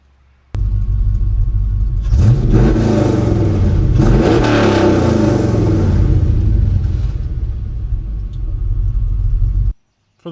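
LS-swapped Chevy K10 truck with long tube headers, 3-inch exhaust and Flowmaster FX mufflers revving loudly, a deep rumbling blip that swells and holds for several seconds before cutting off abruptly.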